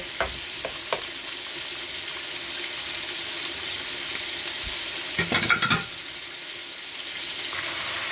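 Tomatoes and meaty bones sauté in a pan for ginisang munggo, a loud continuous sizzle with a few scattered clicks and a brief burst of stirring scrapes midway.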